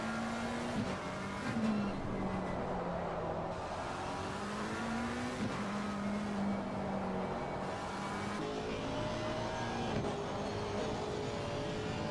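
Race car engines in Assetto Corsa Competizione at Paul Ricard drone and whine continuously, pitch rising and falling with gear shifts, steady and moderately loud with no talking.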